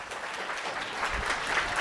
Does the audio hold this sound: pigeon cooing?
no